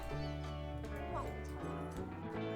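A cat in The Sims 4 gives a brief meow beneath steady, layered game music, fairly faint against the melody.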